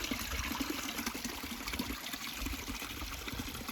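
Water trickling and pouring from a mountain stream in the Gorgany hills into a container, a steady close splashing flow with no one speaking.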